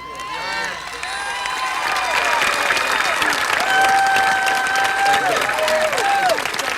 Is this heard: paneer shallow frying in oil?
no